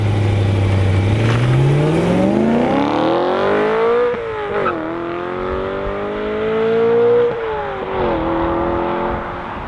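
A BMW E92 M3 engine revs up hard from low idle, pitch climbing steadily before shifting and pulling again on the road, loud and close with no talk.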